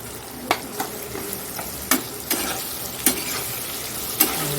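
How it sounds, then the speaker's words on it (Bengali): Turmeric-spiced food frying in a pan gives a steady, close sizzle, broken by several sharp scraping stirs of a spoon, with no voices. "হলুদও দিয়ে দিলাম এটা ভাজা হোক"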